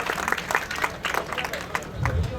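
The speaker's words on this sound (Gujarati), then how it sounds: "આપણે જોરદાર તાળીઓ સાથે લાભાર્થીને વધાવીએ." Audience clapping for scheme beneficiaries at a Viksit Bharat Sankalp Yatra ceremony held at a temple in Bhavnagar: a loose, moderately loud patter of many hands mixed with crowd murmur, swelling briefly near the end.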